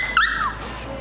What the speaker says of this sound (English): That's my dog, Benjamin.